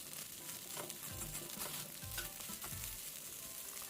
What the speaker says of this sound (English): So I'm going to be tossing this rice and allow it to cook for about 3 minutes